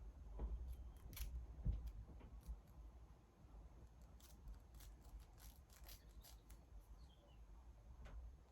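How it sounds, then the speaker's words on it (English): Very sharp scissors snip through hair during a wig install, giving a run of quiet, crisp cuts in an irregular rhythm. The cuts sound close against a low background hum. "These scissors are so sharp,"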